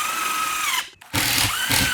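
A power drill drives screws into a soundproofing wall assembly, giving a loud, close, high whine that stops briefly and then starts up again at full speed.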